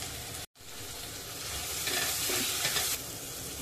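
Onions frying with a little salt in a pan while being stirred, a close, continuous sizzle with scraping stir strokes and a very brief gap near the start.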